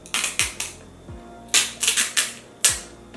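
A sticker seal on a foundation bottle is peeled open in a series of sharp, close clicks and small crackles, a few quick bursts with brief pauses between them.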